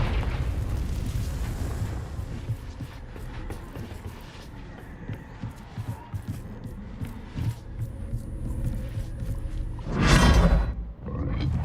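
A Confringo fire spell explodes in Hogwarts Legacy, a loud booming blast swelling near the end over a rumbling game soundscape with background effects.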